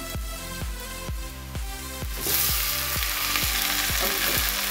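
Chopped onion and tomato fry in a pan, giving a steady sizzle that swells brighter midway as the tomato goes in, with repeated rhythmic clinks of a utensil against the pan over it.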